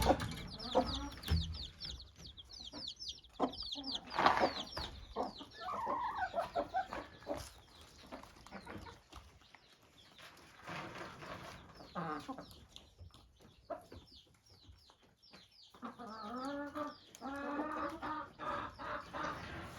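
Hens cluck and chicks peep in a backyard coop where a speckled hen has hatched a brood, with a rooster crowing now and then; a dense, steady chorus of overlapping calls throughout, close and moderately loud.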